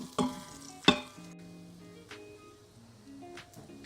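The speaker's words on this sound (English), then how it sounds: "we're going to add 3 cloves of chopped garlic into that oil and just give it a quick little stir" Three cloves of chopped garlic hitting hot oil and stirred briefly, giving a soft sizzle with a couple of sharp utensil clinks against the pan, fairly quiet and close, no talking.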